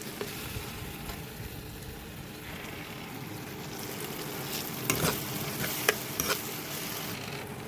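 Ginger-garlic paste with green chillies frying in a pan for a mutton curry, giving a steady broad sizzle with occasional louder crackles and stirring scrapes toward the end, close and without speech.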